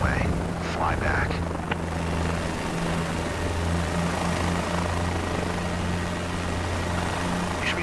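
Helicopter in Microsoft Flight Simulator flaring to land, its steady rotor thrum and engine drone continuous and loud, with a voice talking over it.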